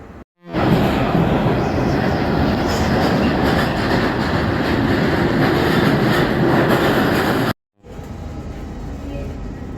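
A London Underground train runs loudly and steadily with a dense rumbling roar, then cuts off briefly near the end before quieter carriage noise resumes.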